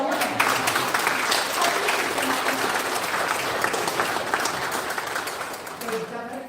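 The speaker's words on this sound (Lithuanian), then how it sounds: "Prašom, ploja." A crowd applauds steadily, many hands clapping in a dense wash that fades a little toward the end, with voices faintly mixed in underneath.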